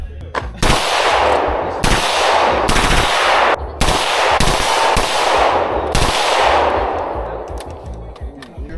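Rapid bursts of gunfire from a .30 magnum rifle fired alongside other guns, several loud sustained volleys with short gaps, close and echoing, with no talk.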